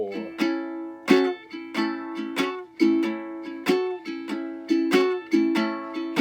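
Clean-toned guitar playing a blues in A, strummed chords struck in a steady rhythm of repeated accents with ringing harmonics, close and fairly loud with no talking.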